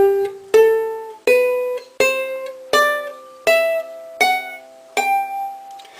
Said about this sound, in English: that would sound like this on a ukulele